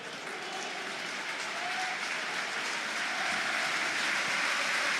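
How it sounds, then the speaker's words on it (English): Sustained applause rolls around a football stadium crowd at Leeds United's home ground, a broad, steady wash of clapping from thousands of fans that builds slightly and holds loud throughout. "applause around the ground for a young Leeds United fan"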